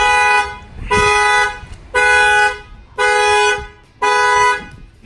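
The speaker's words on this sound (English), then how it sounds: "The alarm fired off." A 2018 Ram 1500 pickup's security alarm blares from an aftermarket shock sensor and bed-lid pin switch setup in Miami, Florida, sounding five loud, steady horn-like blasts in an even on-off rhythm close by.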